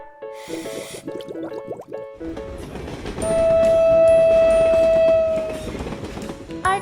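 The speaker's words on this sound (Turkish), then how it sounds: "arkadaşlık treni de geldi." A My Little Pony toy train rattles along with clicking and whirring, a long steady whistle-like tone sounding midway, preceded by brief tinkling electronic notes.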